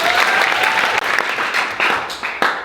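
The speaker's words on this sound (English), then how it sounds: "Our hosts, round of applause for Karen and David." Wedding-reception guests give a round of applause for the hosts, steady dense clapping from a crowd filling the room throughout.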